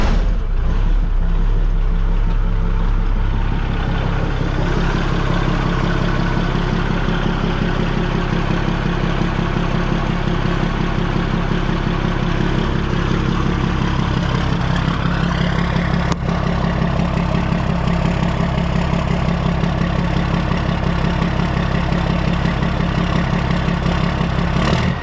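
A semi truck diesel engine idling after being cranked up during a build, a loud, steady, low rumbling throb with a constant mechanical drone that runs unbroken and close throughout.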